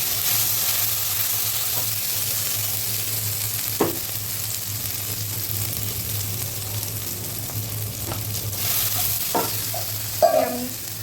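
Fish and thankuni leaf curry with green chilies cooks in a pan, giving a steady close sizzle and bubbling hiss throughout with a few scattered stirring scrapes and clinks, no talking.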